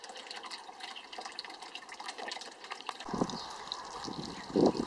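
Water runs steadily into a hot tub during a final rinse, with a louder gushing surge and splashing about two-thirds through.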